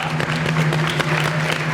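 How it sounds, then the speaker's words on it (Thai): Audience clapping for a doctor at a Thai TV variety show, steady dense applause throughout with a low steady hum underneath. "ขอเสียงปรบมือให้คุณหมอด้วยครับ"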